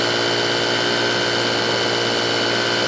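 A Ryobi EZClean power cleaner runs steadily in turbo mode, a loud, close, continuous high-pitched motor whine with a constant tone throughout, cutting off at the very end.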